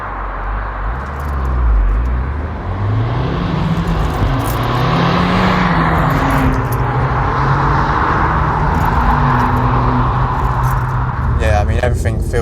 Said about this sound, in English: I'm going to launch it now. Traction control off.